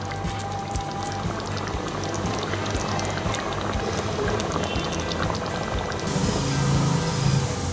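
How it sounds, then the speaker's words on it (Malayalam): A pot of chicken curry made with coconut milk bubbles and simmers steadily on a stove, a continuous close bubbling texture with a slight rise toward the end and no voices. "ഇതൊന്ന് തിള വന്ന് തുടങ്ങിയിട്ടുണ്ട്."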